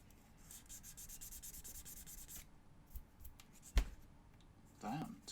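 Fine 600-grit sandpaper rubbed by hand to polish scratches out of a painted surface, quiet repeated scratchy strokes with a person talking over them.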